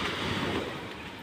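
Ocean surf washing onto a sandy tropical beach at Punta Harina, a steady broad rush of breaking waves with some wind buffeting the microphone, loud and close, no voices.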